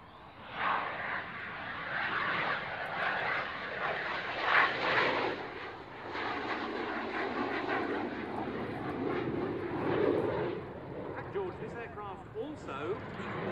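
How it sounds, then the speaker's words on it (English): A Saab 105 jet flying low and slow at around 110 knots with landing gear down, turning in a 360 overhead; a distant, steady engine whine and rush rises and falls under continuous commentary. "So we're coming in now at 110 knots, and with the gear down, he's going to go into a 360 turn."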